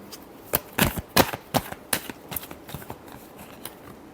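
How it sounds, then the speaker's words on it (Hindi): Tarot cards being shuffled, a run of crisp riffling flicks and snaps that start loud and quicken, then taper into softer, denser patters toward the end. "last shuffle"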